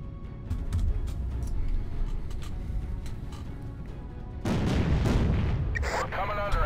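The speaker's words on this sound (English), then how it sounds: "We're coming under enemy fire." Enemy gunfire and artillery in a Pacific naval war video game: a constant rumbling barrage with repeated gun pops, swelling into a heavier, louder roar of fire in the second half.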